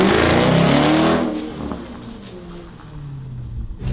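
A converted Land Rover's engine revs hard and loud for about a second, then drops to a rumbling idle with small blips of throttle, close by with no talk.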